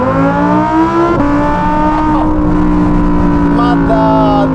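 A Novitec-tuned Lamborghini Huracan EVO revs hard and high, its loud engine note climbing and shifting continuously close by, with a voice speaking over it.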